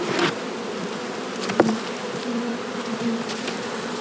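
Honey bees buzz steadily and densely around an open hive during a spring inspection, filling the air with a continuous close drone, with a few brief louder passes near the ear.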